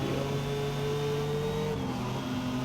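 A 1982 Porsche 911 widebody in the Forza racing game accelerates at Suzuka, its engine a loud steady drone with rising harmonic tones and a brief shift in pitch near the end, alone without speech.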